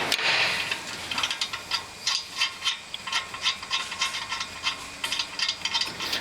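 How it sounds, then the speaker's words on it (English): A 17 mm socket wrench works loose the brake caliper mount bolts with a run of quick, close metallic ratchet clicks in short bursts, and the garage background is quiet otherwise. "Now you need a 17 millimeter socket to remove your caliper mount."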